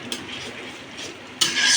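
Chopped coriander is stirred into a dried puti fish curry, a brief scrape of a spoon through a thick, gently sizzling mixture. A louder scraping burst comes at the end, close up.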